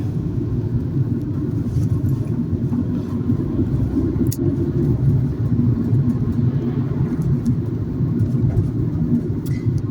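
Interior of a car driving slowly over speed bumps in a holiday village, a loud continuous low road rumble with occasional knocks and jolts, no talking.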